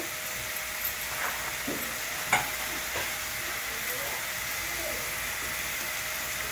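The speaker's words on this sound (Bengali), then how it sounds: "টমেটোটা একটু ভাজা ভাজা করতে হবে, একটু টাইম লাগবে।" Tomato frying in a pan, a steady soft sizzle with occasional scrapes and taps of a spoon stirring, fairly quiet and close with no talking.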